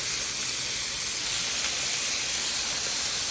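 Bacon sizzles on a Blackstone griddle set to low, a steady, close hiss with no breaks and no talk.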